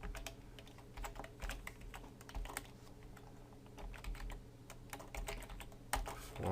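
Fingers type on a computer keyboard while coding PHP, producing irregular bursts of quick, close key clicks with brief pauses between runs, and no talking.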